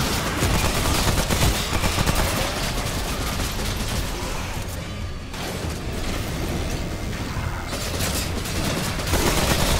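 Sustained machine gun fire in the video game Remnant: From the Ashes, loud and continuous bursts with dense rattling shots and booms throughout, briefly thinning in the middle before resuming at full intensity.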